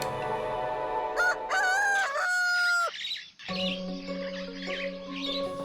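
A rooster crows nearby in a few drawn-out calls with a brief pause between them, over soft background tones.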